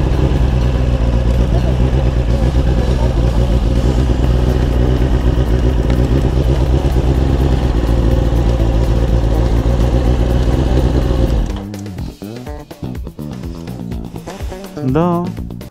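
A moped engine drones steadily and loud while riding, a constant buzzing note that cuts off abruptly, leaving a short stretch of rustling and clatter.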